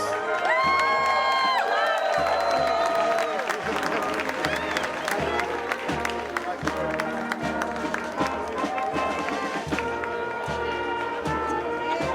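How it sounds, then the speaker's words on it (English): Graduation crowd at a 2023 high school ceremony applauding board trustees, administrators, faculty and staff, a dense sustained wash of clapping and cheering with whoops, under band music and a voice over a loudspeaker. "Please give them a round of applause"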